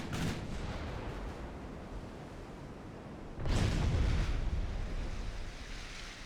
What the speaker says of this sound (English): Yeah, and then there's the incoming fire.